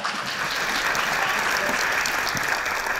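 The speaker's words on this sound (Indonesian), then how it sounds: "Kita berikan aplaus untuk Erika." A studio audience at the Kick Andy talk show claps steadily and densely for a guest, a full wash of applause that stays even from start to finish.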